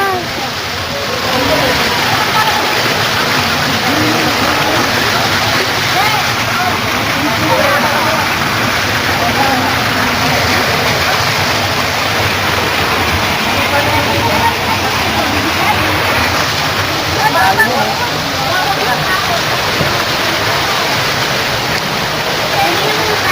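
Lagoon Falls waterfall roars in a continuous, loud rush of falling water, with voices talking now and then beneath it.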